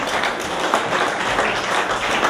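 Audience applause at a folk dance festival: dense, steady clapping from a crowd that holds at an even level throughout, with no pauses.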